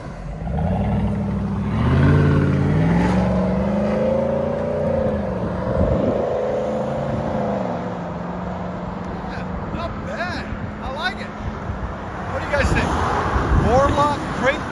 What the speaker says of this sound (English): Let's see what she sounds like when I drive off.